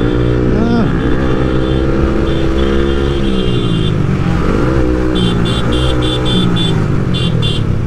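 A motorcycle fitted with a new Leo Vince Cobra exhaust idles and revs loudly close by, its engine note rising and falling in a few blips while someone talks over it.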